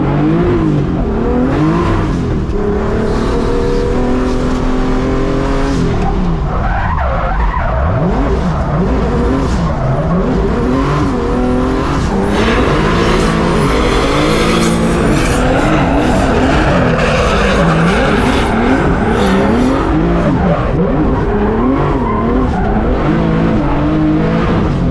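BMW E36 competition race car on a cold track during drift week, engine roaring loud and close with rising and falling revs as the cold tires squeal and slide almost without pause.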